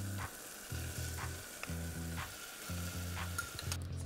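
Prawns sizzle in a pan with butter, garlic puree and a bay leaf, a quiet crackling fry broken into short repeated bursts as they are stirred and moved about.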